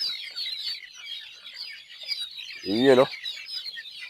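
Gamefowl chicks peep in a continuous high-pitched chorus at breakfast feeding on a game farm. Someone speaks briefly over them near the end.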